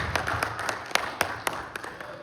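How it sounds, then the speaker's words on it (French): A church congregation claps along in a steady rhythm, with sharp individual claps standing out from a softer spread of hands, fairly quiet overall, while a voice speaks beneath. "Put your hands together for the Lord."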